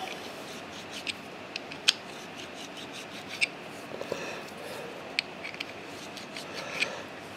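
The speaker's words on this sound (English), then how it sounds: "So a little deburr here." Faint scraping and filing while deburring a metal part for a Hemingway ball turner kit, quiet rasping strokes with several sharp little clicks and ticks scattered across a hushed workshop.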